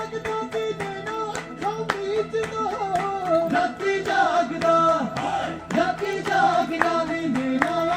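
Rhythmic hand clapping from an audience at a live Indian music performance, steady sharp claps keeping time over sung melody and instruments, fairly loud and close.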